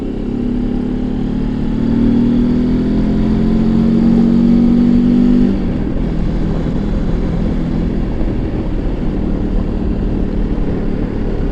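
A torquey motorcycle climbs fast uphill with its engine loud and near, the revs rising steadily before the note drops and settles into a steady, sustained drone with no talking.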